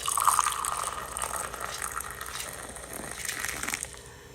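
Hot water is poured into a mug of instant coffee with sugar, giving a soft gushing, splashing pour that fills the cup over a few seconds.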